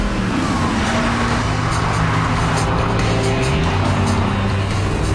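A Mercedes-Benz SLR McLaren Roadster engine runs loud and close with a dense, continuous roar and rising revs, no talking.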